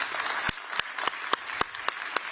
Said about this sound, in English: let's give another massive round of applause for President of the European Commission